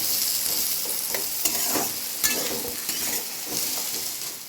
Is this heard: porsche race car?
no